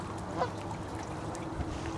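Ducks calling overhead as they descend, several short quacking notes, fairly faint against a steady outdoor background.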